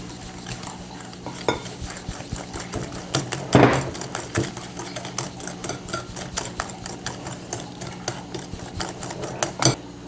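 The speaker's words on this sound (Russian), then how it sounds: "И сейчас добавляем к ним 150 грамм сахара. И опять же хорошо размешиваем." Sugar being stirred into a crème brûlée mixture in a bowl, with steady scraping and clinking of a utensil, a few sharper knocks against the bowl, close and moderately loud with no talking.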